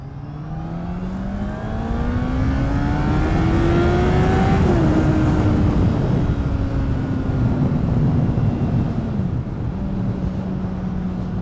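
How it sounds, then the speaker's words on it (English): The inline-four petrol engine of a 2010 Honda CBR600RR PC40 climbs in pitch through the gears, shifts around midway, then keeps pulling with a steady, loud whine and wind rush. "That was a little pull with this inline 4 petrol engine."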